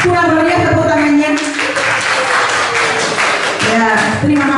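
Scattered applause from a seated audience at a teachers' positive-culture dissemination session, uneven clapping that swells and thins while several people talk over it at close range.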